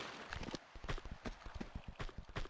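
Footsteps in the video game Tomb Raider 2 Remastered, a quick series of soft, close taps in an uneven walking rhythm, fairly faint and alone without talk.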